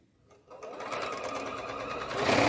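A home sewing machine starts up after a faint tap and runs steadily, its motor and needle whirring as it stitches fabric, growing slightly louder toward the end.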